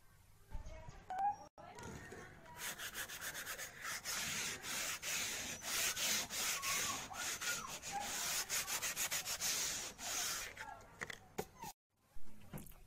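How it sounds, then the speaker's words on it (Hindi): Wood is sanded by hand with 100-grit strip sandpaper pressed down firmly, making rapid back-and-forth rasping strokes that run steadily and close up for most of the clip before stopping near the end. "100 नंबर का पट्टी वाला रेगमाल लगाएंगे इसके ऊपर। और इसको दबा के अच्छी तरह से रगड़ देना है"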